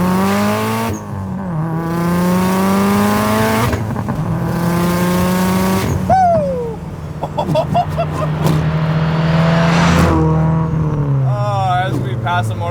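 A big-turbo 500 hp Subaru Impreza STI running E85 pulls hard through several gears, the engine climbing in pitch with sharp drops at each shift, a turbo whoosh and flutter between pulls, heard from inside the car.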